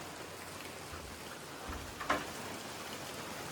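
Heavy rain falls steadily at a moderate distance, a faint even hiss with a brief louder knock partway through.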